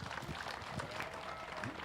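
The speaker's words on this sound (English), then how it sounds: "Let's give those two young men a big round of applause" Applause at the 2023 Dunn County swine show ring, a steady wash of clapping from the crowd filling the whole moment at moderate distance, with faint voices beneath.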